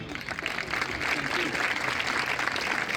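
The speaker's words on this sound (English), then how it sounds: "Let's give Frank a round of applause." Steady, dense clapping from a crowd fills the whole stretch, loud and sustained without a break.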